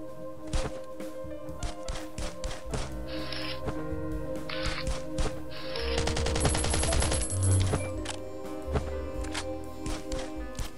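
Video game gunfire on an iPad shooter, with a dense burst of rapid automatic shots in the middle and scattered single shots and footsteps-like clicks around it, set against steady game music and ambience.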